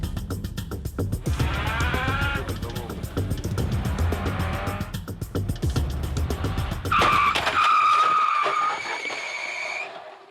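A car brakes hard during a crash demonstration, engine roaring and tires squealing in long screeching skids that build to a loud sustained shriek before cutting off.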